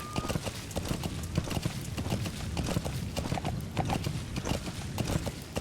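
Horse hooves clip-clop in a quick, even trot in the Metal Gear Solid V video game, the steps close and steady throughout with a faint background bed beneath them.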